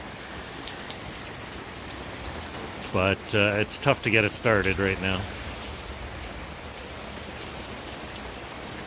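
Pouring rain at a winter campsite in Prince Rupert, British Columbia, a steady hiss on surfaces throughout, with someone speaking briefly midway over it.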